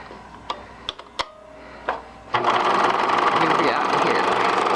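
A few clicks and knocks of handling come first, then a Bernina sewing machine starts and runs steadily, a loud close whirring hum with a fast mechanical ticking rhythm.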